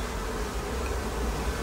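Honeybees buzz steadily around the entrance of an observation beehive, a dense, continuous close hum of many wings with no voices, even in level throughout.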